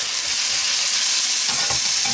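Bubble and squeak fries in a pan over medium to high heat with a steady, loud sizzle. Near the end comes a brief scraping and shuffling as the mixture is turned.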